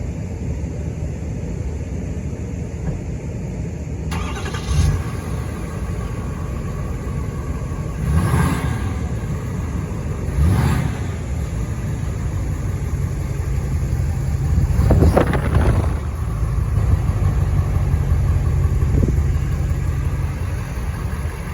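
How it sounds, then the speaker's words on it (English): A 2022 Ford F-350 Lariat Super Duty pickup sits with its engine running after a cold start, a steady low rumble throughout with a few brief louder surges, heard alone with no talking. "We're going to get you a cold start"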